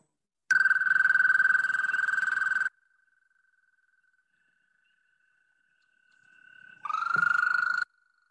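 An American toad's long, steady musical trill, two sustained calls separated by a few seconds of near silence, close and clear with no talking.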